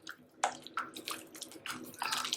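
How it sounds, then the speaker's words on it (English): Water poured into a pot of thick dried okra soup to loosen it, several quick splashing gushes and glugs in uneven bursts, close and fairly clear without talk. "I'm going to add more water until it loosens up."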